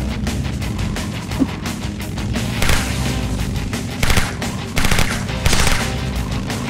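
Rapid firearm bursts from a weapon in the motorcycle combat game Road Redemption, fast repeated shots over a constant engine-like roar, with several louder volleys standing out.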